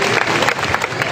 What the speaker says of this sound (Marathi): जरा जोरदार टाळ्या ताईसाठी.